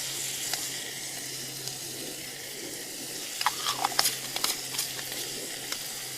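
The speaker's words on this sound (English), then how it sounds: "Fry that, certainly no more than a minute. You don't want it sticking to the pan." Cumin, coriander, turmeric and garam masala fry in a pan at an outdoor camp cooking setup, giving a faint, soft sizzle with scattered light scrapes and clicks of stirring.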